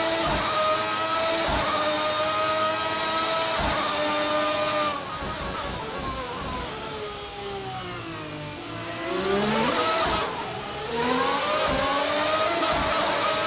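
Historic 1990-era Formula 1 cars launching off the grid at the start of a race in Assetto Corsa: high-pitched engines scream and rise through gears, several cars overlapping, pitch sweeping down and up as they shift, loud and continuous with no talk.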